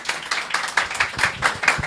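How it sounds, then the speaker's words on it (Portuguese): A small group claps in quick, uneven bursts for a guest at a Brazilian seminar on samba and Carnival, fairly close and distinct individual hand strikes, brief and without speech. "Portanto, uma salva de palmas para Marcos Gomes."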